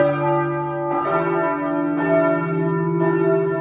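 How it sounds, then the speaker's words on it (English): Church bells ring at a church in Reykjavik, three rich, resonant strikes about a second apart, each hum lingering into the next, close and clear with no talk. "And the bells were so cool."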